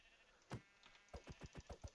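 Sheep in a Minecraft 1.18.2 passive mob farm bleat in a quick run of five or six short, close calls, with one lone bleat just before the run.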